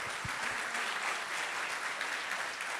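Steady applause from a church congregation clapping loudly in praise, a dense continuous wash of hand claps that holds evenly throughout with no voices on top.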